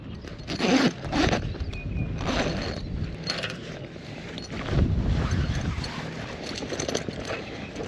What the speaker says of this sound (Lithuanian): Atsisegam lazy bagą.